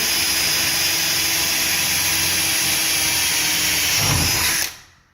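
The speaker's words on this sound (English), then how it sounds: "Now I'm gonna drill out the hole." A power drill drills out a hole for a rivet, whining steadily at high speed for several seconds, bogging down briefly, then spinning down and stopping.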